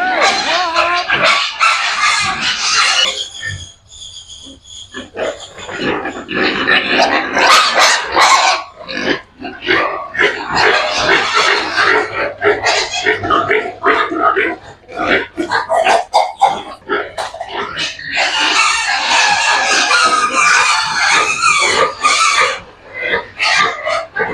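Native pigs in a pen grunt and squeal loudly and close by, together with clucking chickens and a crowing rooster in a busy farmyard, with some speech mixed in.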